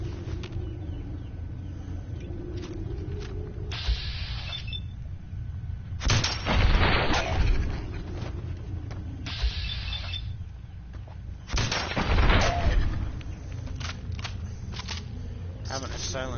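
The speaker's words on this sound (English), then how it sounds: "Having a silent shotgun helps." A silenced shotgun fires in Fallout 4, with two heavy muffled bursts spaced several seconds apart among smaller clicks and game sounds, while someone talks over much of it.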